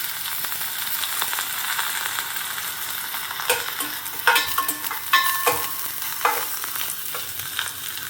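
Onion pieces and cabbage fry in oil with a steady crackling sizzle, broken by sharper spoon scrapes and a few clinks against the pan, close and clear.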